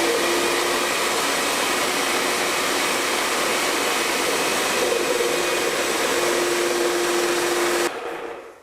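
A low-pressure airless paint sprayer pump runs with water, a loud continuous broadband whirring hum with a faint steady whine, unbroken for several seconds before cutting off abruptly near the end.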